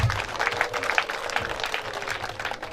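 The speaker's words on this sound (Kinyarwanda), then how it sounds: "mubanze mubampere amashyi n'impundu" Applause and ululation from guests at a wedding reception, a dense continuous wash of clapping and high trilling voices that holds steady throughout without pause.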